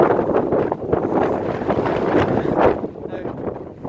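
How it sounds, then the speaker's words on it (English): Strong wind buffets the microphone outdoors beside an abandoned farmhouse, a loud, continuous rumbling roar with gusty swells and no clear voice above it. "It's unlikely that you can hear me due to the wind."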